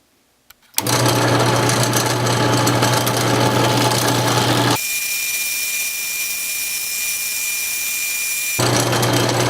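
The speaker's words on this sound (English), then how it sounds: "I have the blank all chucked up on the lathe and it's ready to turn down into our" Wood lathe spinning a purpleheart pen blank, a loud steady mechanical whine and hum starting abruptly, changing tone midway and returning, with no talk.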